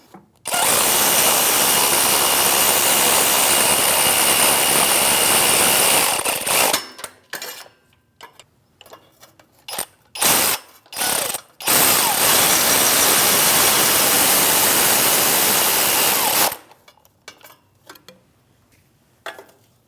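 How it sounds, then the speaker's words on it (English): An electric ratchet snugs engine mount bolts on a Chevrolet Malibu 1.5L L4, with a loud sustained whir for about six seconds, several short bursts, then another long run, close up with no talking. "I'm going to get my electric ratchet and snug these all up before I torque them."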